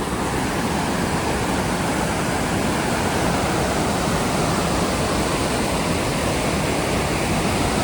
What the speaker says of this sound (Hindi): पानी तेज हो गया रात को